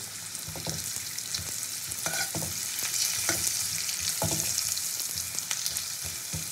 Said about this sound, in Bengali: আলুগুলোকে উল্টো পাল্টে ভেজে নেব।